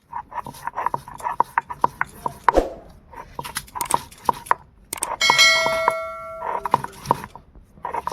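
Black cumin, garlic, green chili and shrimp being ground by hand: repeated sharp knocks and scrapes in an uneven rhythm, close and fairly loud, with a brief bright metallic ringing partway through.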